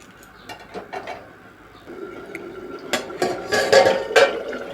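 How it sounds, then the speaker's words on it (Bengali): Pot of egg and potato curry with fried eggs being covered, clanking metal lid and utensil knocks, several sharp clinks growing busier toward the end over a faint kitchen hum. "ভেজে রাখা ডিমগুলো দিয়ে এবার ঢাকনা চাপা দিয়ে ঢেকে রান্না করব"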